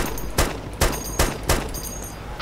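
PKM machine gun fire in the video game DayZ Namalsk, heard as four sharp, evenly spaced shots over steady background noise, loud and fairly close.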